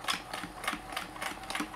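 A vintage Kenmore 158.1040 three-quarter sewing machine stitches through a thick stuffed layer of fabric, giving a quick, even mechanical clatter of about six needle strokes, close and moderately loud, with no talking.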